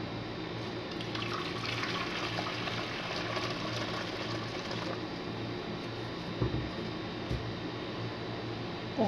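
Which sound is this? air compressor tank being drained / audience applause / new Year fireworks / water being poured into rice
water being poured into rice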